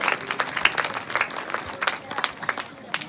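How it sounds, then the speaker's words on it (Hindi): An audience at a staged Chhattisgarhi comedy Ramayan performance claps in irregular bursts of applause, fairly close, while voices carry faintly underneath. "एक बार जोरदार ताली हो जाए बहनों"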